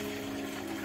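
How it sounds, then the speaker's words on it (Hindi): Water pours steadily into a pot on an induction stove while steamed paneer momos are being prepared, a continuous watery rush that runs unbroken and fairly close, with no talk over it. "इसमें 2 गिलास तक पानी डालेंगे।"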